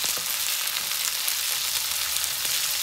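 Chickpeas for chana chilli frying in a pan, giving a dense, even hiss of oil sizzling up close, steady and uninterrupted with no talk.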